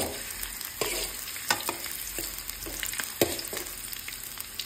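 Onion and garlic frying with ginger and chilli in a pan for fish adobo: a soft, close sizzle with occasional stirring scrapes and clinks, fairly quiet, no voices.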